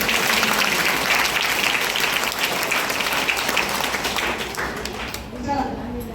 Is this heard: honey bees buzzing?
no